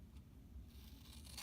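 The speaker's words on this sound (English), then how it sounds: "now we're going to cut up these tabs" Scissors cutting paper tabs for a hexagon box craft, a short, quiet crisp snip or two over a low background hum.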